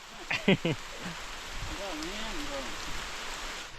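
Steady rain patters in the background, a soft continuous hiss, with a brief voice at the start.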